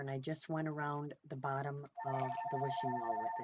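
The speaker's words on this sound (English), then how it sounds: "Sorry about the phone, it always rings when I'm on here." A telephone rings indoors in a steady repeating electronic trill beneath a person talking, which starts partway through and continues to the end.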